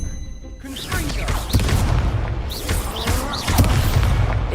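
Confringo blasting spell explosions in Hogwarts Legacy, with repeated booming blasts and whooshes over a dense battle din, layered under shouted spell incantations.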